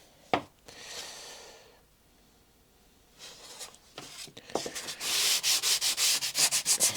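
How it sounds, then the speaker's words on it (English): Sanding and shaping balsa wood for a scratch-built 25-inch EDF Gnat model jet, with soft rubbing strokes at first, then a run of quick, steady, rhythmic scrapes that grow louder and close toward the end. "First bit of sanding and shaping that I've done for a very long time."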